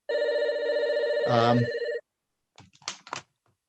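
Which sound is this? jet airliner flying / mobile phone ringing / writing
mobile phone ringing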